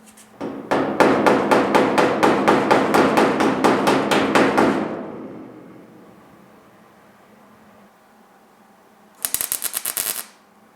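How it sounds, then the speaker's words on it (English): Steady rapid hammer taps ring out on a welded steel patch panel for a GTO sail panel repair, close and loud, a dozen or so even strikes, then a short quicker flurry of lighter taps after a pause. "let me tap on it a little bit, and we get a couple more tacks on it"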